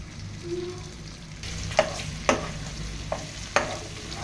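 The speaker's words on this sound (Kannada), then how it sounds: "ಎಣ್ಣೆ ಚೆನ್ನಾಗಿ ಕಾದಿದೆ ಎರಡು ಗ್ರೀನ್ ಚಿಲ್ಲಿ ಹಾಕೋತಾ ಇದ್ದೀನಿ ಗಾರ್ಲಿಕ್ ಹಾಕೋತಾ ಇದ್ದೀನಿ" Green chillies and garlic dropped into well-heated oil, giving a soft steady sizzle with several sharp crackles and spatters spaced out over a few seconds, fairly quiet and with no talking.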